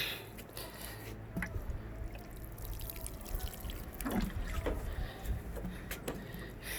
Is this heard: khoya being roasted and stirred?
no